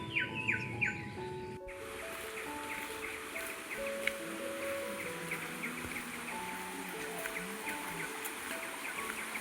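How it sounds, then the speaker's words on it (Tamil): Birds chirp and call intermittently in a quiet bamboo forest in the Hindol-Badamba reserve, with soft scattered tweets over a faint steady background hiss. "அங்கே இருக்கக்கூடிய பறவைகளின் சத்தம் மற்றும் நிசப்தமான ஒரு சூழ்நிலை"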